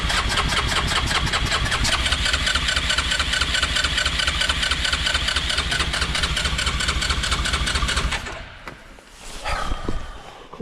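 A Yamaha side-by-side engine runs steadily and loud after cranking, a dense rhythmic idle filling about eight seconds before it cuts out abruptly, leaving a brief quieter rattle and stir at the end.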